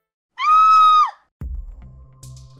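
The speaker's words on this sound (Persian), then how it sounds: "صدای جیغش اومد." A young girl's scream rings out once, high, loud and sustained for about a second before breaking off, followed by lower rumbling and scuffling sounds.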